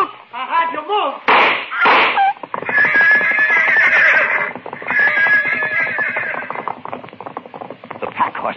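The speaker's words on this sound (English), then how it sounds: "The pack horses reared at the shot." Pack horses in a radio drama whinny and rear in alarm at a gunshot, a burst of neighing and scuffling, loud and close, followed by a sustained rush of frantic sound effects.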